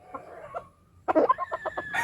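A rooster at Barangay Bonbon, Sityo Mamaw, gives a few soft clucks, pauses, then breaks into a short, louder burst of crowing-like calls, close by and alone.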